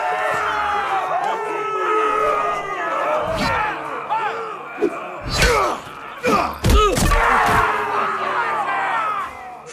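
A large video game arena crowd roars and shouts in a big space, with heavy thuds and slams cutting through the din.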